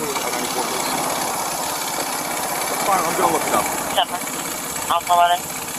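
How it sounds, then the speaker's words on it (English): A 50cc moped engine idles steadily nearby with a buzzing, even drone, while a person talks over it during a roadside traffic stop. "Please turn off the moped."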